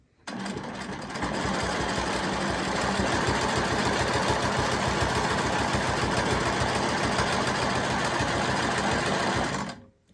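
A sewing machine runs steadily while quilting stitches around a fabric piece, its rapid needle chatter starting after a brief pause and continuing fast and even up close before stopping abruptly at the end.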